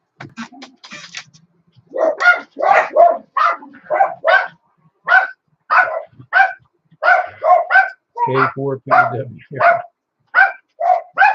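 Several dogs bark and yip in a steady run of short, loud bursts, with someone briefly talking at the start and a deeper rumbling bark near the end, indoors beside amateur radio gear.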